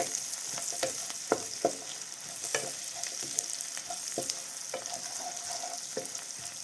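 Onion and garlic sauté in a pan for a mango curry, a soft steady sizzle broken by repeated ladle scrapes and taps, quiet and close with no talk.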